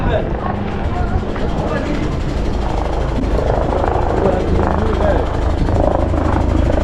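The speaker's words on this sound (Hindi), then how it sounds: "बार मिलिट्री के हेलीकॉप्टर आ रहे हैं।" A military helicopter drones loudly and steadily throughout over a Nairobi market during a drill, its rotor rumble filling the scene while people talk in the foreground.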